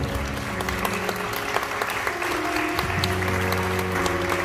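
Wedding guests applaud the bride and groom's bow at a wedding hall ceremony, a steady, full crowd clapping that runs throughout, with faint music tones sustained underneath.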